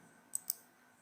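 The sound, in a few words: computer mouse clicking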